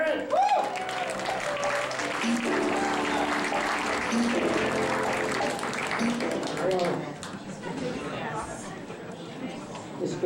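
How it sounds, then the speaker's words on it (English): A comedy club audience in Las Vegas claps for a comedian taking the stage, applause mixed with cheering and chatter, while a voice talks over it and the clapping thins toward the end. "How about a huge round of applause for Miss Loren Kraut"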